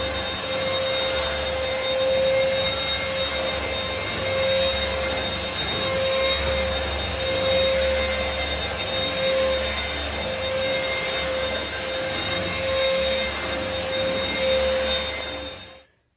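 A Hoover H-Free 800 cordless vacuum cleaner with a motorised brush runs steadily at close range, a constant high whine with a droning hum that cuts off abruptly at the end.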